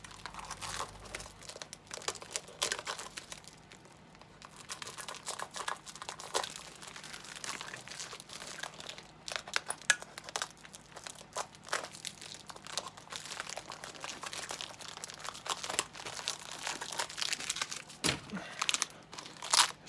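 Excess car wrap film is cut and peeled away from a car's antenna fin, giving faint, irregular crinkling and tearing rustles close by over about twenty seconds.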